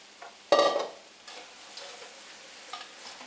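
Breadcrumbs stirred into a big Dutch oven pot for fresh bread stuffing, a short scraping, rustling burst at close range followed by a softer shuffling tail.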